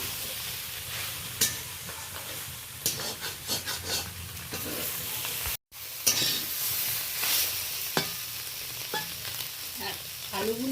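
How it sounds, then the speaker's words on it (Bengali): Ground cumin, turmeric and coriander are stirred in a hot frying pan, giving a continuous sizzle and frying hiss broken by scraping stirs and spoon clinks, with a brief cut partway through. "জিরে গুঁড়ো, হলুদ গুঁড়ো, ধনে গুঁড়ো দিয়ে দিলাম, ভালো করে নাড়াচাড়া করে নিচ্ছি"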